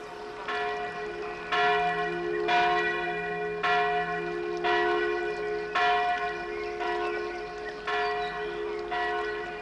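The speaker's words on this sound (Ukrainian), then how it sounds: "Церковний дзвін." Church bells ring steadily in a repeating peal, several bells striking in turn with rich overlapping tones that hang in the air.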